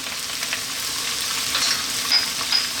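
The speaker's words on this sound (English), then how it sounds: "Now I'm going to drop in that tablespoon of chopped garlic." Chopped garlic sizzles loudly in a hot frying pan for a chicken and bell pepper tomato pasta, a steady close crackling hiss with brief sharper pops throughout.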